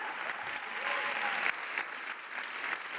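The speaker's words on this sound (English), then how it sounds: "a final round of applause for the winners of the Tilburg University Challenge" Applause from the audience at a university challenge grand finale rewards the competition winners, a continuous, fairly soft roll of many hands clapping heard from a short distance.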